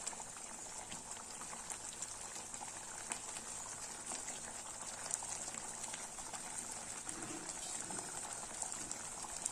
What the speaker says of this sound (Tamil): இப்போ நல்லா வந்து கொதிச்சிருச்சு.